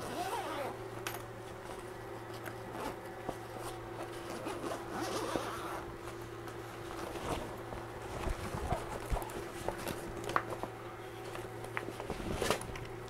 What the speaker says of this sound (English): we got some zippers we're gonna have to open up here to be able to get inside.